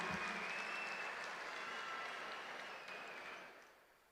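An audience of women applauds at a government welfare scheme expansion ceremony in Tamil Nadu, the dense clapping loud at first and then gradually fading out over several seconds.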